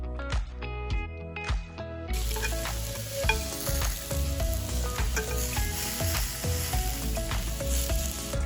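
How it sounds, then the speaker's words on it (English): Eggplant brushed with olive oil and seasoning sizzles on a griddle. Utensil clicks open it, then a dense, steady frying hiss begins, with scattered pops and scrapes. "So in the process of grilling our eggplant, the griddle gets a little bit smoky"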